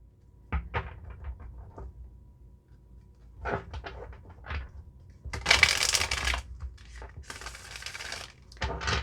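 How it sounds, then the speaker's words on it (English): Tarot cards being shuffled in several brisk riffling bursts, with soft tapping and handling sounds between them, close and clear with no talking. "as we go ahead and shuffle your cards"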